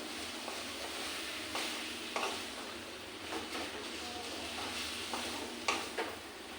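Taro being stirred with spices in a frying pan, with soft scraping strokes and occasional clinks over a faint, steady sizzle, heard alone and fairly quiet.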